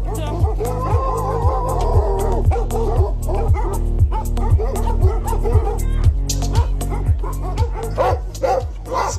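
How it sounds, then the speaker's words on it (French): A pack of sled dogs waits at the start of La Grande Odyssée race, barking and yipping excitedly in a dense, rapid, continuous chorus close by, with faint voices underneath. "les chiens sont prêts, ils n'ont qu'une envie, c'est y aller. C'est pour ça qu'ils aboient."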